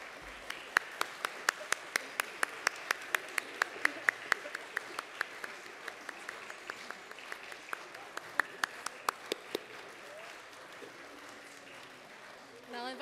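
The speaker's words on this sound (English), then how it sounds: "give this class one more time a round of applause" At a college baccalaureate ceremony, an audience applauds the graduating class: many sharp, distinct claps ring out in a sparse, uneven rhythm, thinning after about ten seconds as voices murmur underneath.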